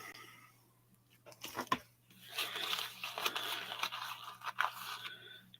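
Chewing tobacco being worked in the mouth close up, irregular soft crunching and wet squelching bursts that grow busier toward the end, with no talking over it.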